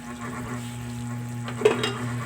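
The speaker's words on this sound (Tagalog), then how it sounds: "i, pa-evaporate lang natin yung kanyang liquid" Chicken adobo liquid with brown sugar simmers and reduces in a pan, giving a soft, continuous bubbling sizzle with a low steady hum and one brief stir or clink near the end.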